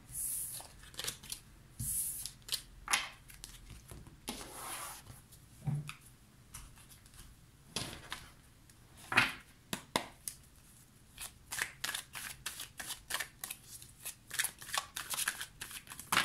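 A deck of oracle cards being shuffled up close: repeated papery riffles and slaps in irregular bursts, some sharp and loud, with soft sliding between them over about sixteen seconds.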